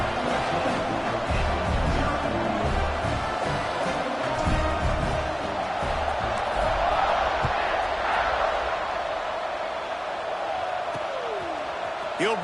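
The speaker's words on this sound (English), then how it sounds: "this crowd is buzzing after that last score" Stadium crowd buzzing in an American football video game after a score, a dense continuous roar of many voices held at steady loudness throughout, with faint cheers rising through it.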